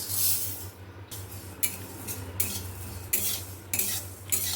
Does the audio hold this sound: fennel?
yes